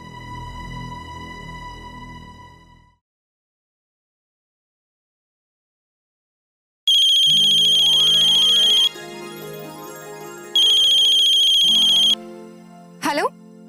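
A telephone rings with a loud, steady electronic ringtone in repeated bursts after a stretch of music and silence. A short tonal blip ends the sequence, with no voices over the ringing.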